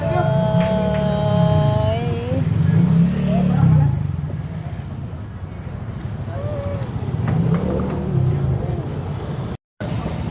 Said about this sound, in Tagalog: I saw traffic today.